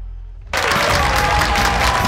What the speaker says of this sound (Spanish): Un aplauso gigante para nuestros héroes.